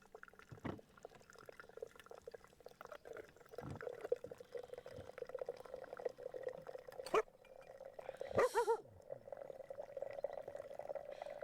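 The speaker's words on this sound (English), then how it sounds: "Oh, that water sprinkles both ways." Water sprinkles and pours in a faint, continuous trickle with occasional splashes and drips, mixed with low background noise and no talk.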